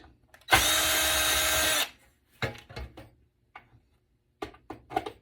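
A power drill whirs loudly for about a second and a half while backing screws out of an HP computer case being scrapped, followed by scattered clicks and clatter of loose parts and brackets being handled nearby.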